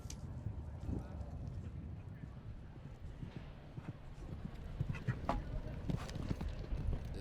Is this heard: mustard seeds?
no